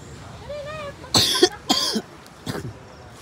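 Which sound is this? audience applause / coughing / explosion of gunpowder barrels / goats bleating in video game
coughing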